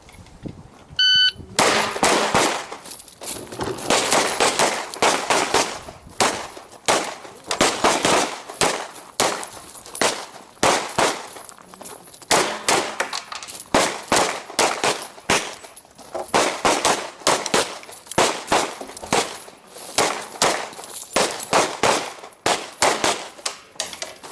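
Rapid pistol gunshots ring out on an outdoor shooting course in sharp, loud bursts of fast repeated cracks with brief pauses between strings, continuing for the whole stretch with no talking.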